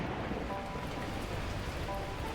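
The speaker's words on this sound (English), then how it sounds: "the heavens opened up, unleashing torrential rain" Torrential rain pours down in the video game Beacon Pines, a dense, steady hiss of heavy downpour filling the whole stretch without a break, loud and close, with no voices over it.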